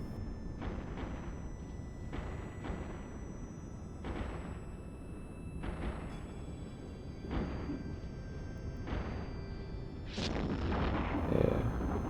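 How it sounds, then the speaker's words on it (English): Explosions from weapons fire in the space game Eve Online: a series of dull bursts repeats every second or two, fairly faint over a steady background hum, with a louder burst near the end. "Ooh, explosions."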